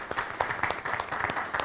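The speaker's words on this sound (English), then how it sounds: "A clapping for you." An audience claps for a presenter in a short burst of scattered applause from a modest crowd.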